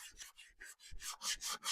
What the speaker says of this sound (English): I put the wood filler, I should sand it a little